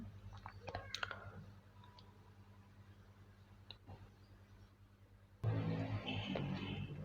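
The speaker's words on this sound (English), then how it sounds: "just click over that item" A computer mouse button clicks a few times at close range, with sharp isolated ticks early on against a faint steady hum, followed by a louder broadband noise near the end.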